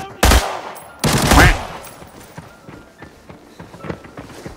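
Shooter video game set in an armory map: two loud close gunshot bursts early on, then quieter scattered shots and footstep-like clatter with faint talk underneath.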